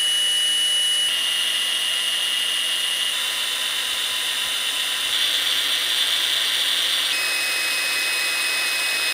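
A Bosch GWS 18V-11 S cordless angle grinder runs at no load, its high, steady whine stepping upward in pitch through its speed settings in distinct jumps, loud and close, with no one talking.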